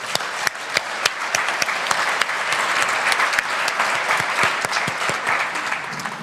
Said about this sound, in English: can you join me and we give a very big round of applause to FAO?